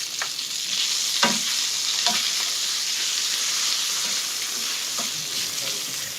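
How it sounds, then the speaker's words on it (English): Steady sizzling of food sautéing in a pan at a lemony shrimp and zucchini cook, with a few light stirring clicks over the constant fry. "I'm gonna let this saute in the back here, nice and easy"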